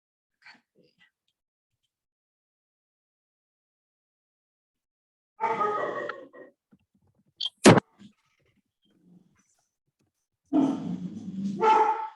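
A dog barks indoors behind an online meeting: a few short, sharp barks around the middle, with muffled bursts of sound before and after.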